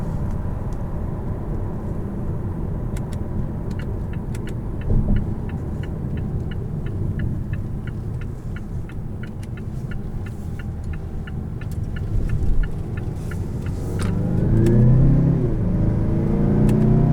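2018 Mazda6 Turbo engine heard from inside while driving, a steady low throbbing drone that swells as the revs rise toward the end, with faint ticking throughout.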